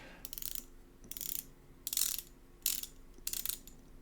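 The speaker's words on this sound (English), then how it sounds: "You can just feel it's 60 clicks, but it's really different in loudness. It's really loud and clicky, too loud in my opinion." The rotating bezel of an Incaseda Seiko homage watch ratchets through its 60-click action in five short bursts of rapid, crisp clicks, close and loud against a quiet background.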